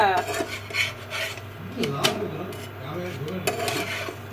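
Utensils clatter and scrape in a kitchen sink as they are washed after making roti on a grinding stone, with irregular clinks and rubbing throughout and a steady hum underneath.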